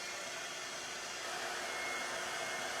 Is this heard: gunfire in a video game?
no